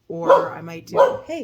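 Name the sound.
dog barking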